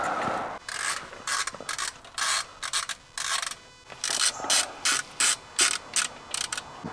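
A ratchet tightens bolts during a clutch and midweight flywheel install on a Nissan 370Z: a long series of fast clicking bursts with short pauses between, crisp and close, with no voices.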